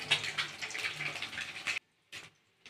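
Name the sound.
water being drained from boiled beans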